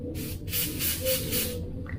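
An airbrush sprays yellow paint in a steady, close, fairly loud hiss of atomised air, pulsing in short passes over about two seconds before easing off.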